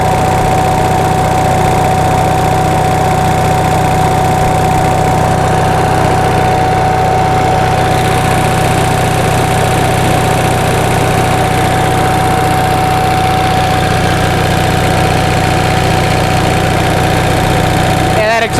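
A 1945 Onan generator engine running under about 1,000 watts of load, a loud, steady, close drone with a constant hum and fine mechanical vibration throughout, no talking.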